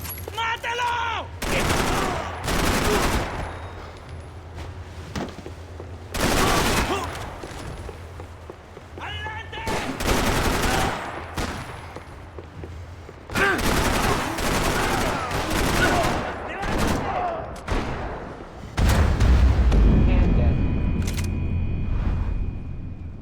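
Enemy gunfire erupts in Max Payne 3, with repeated loud bursts of automatic shots in long volleys and some single cracks, close and harsh. Shouting voices and a speaking voice come in between the bursts.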